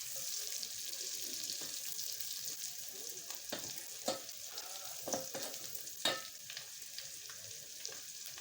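Onions fry in a pan for a pork dry fry, giving a steady hissing sizzle with occasional sharp clinks and scrapes of stirring.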